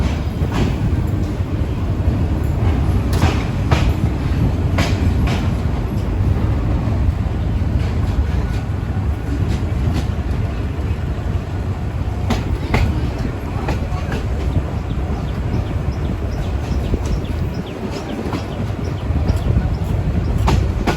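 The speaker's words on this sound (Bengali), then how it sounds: "আমাদের ট্রেনটি এখন ডিপার্চার নিচ্ছে চিতোষী রোড রেল স্টেশন" The Meghna Express train rolls along from Chandpur toward Chittagong, departing a rail station in the early morning, with a loud, continuous rumble and scattered rhythmic clicks of wheels over rail joints throughout.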